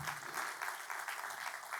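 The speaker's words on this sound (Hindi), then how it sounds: "आइए स्वागत करें तालियों के साथ" A church congregation at a Hindi service claps in welcome for a visiting family, a brief burst of dense, even applause from many hands, near and continuous throughout.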